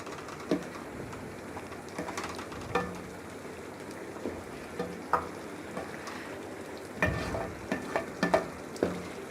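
Coriander powder toasting in a pan for beef karahi gives a low continuous sizzle, with intermittent scraping stirs and utensil taps that cluster near the end.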